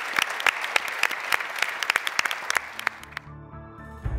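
An audience claps for the questioners at a public forum on democracy and trust in news, a dense burst of applause that tapers off after about three seconds into quieter room tone.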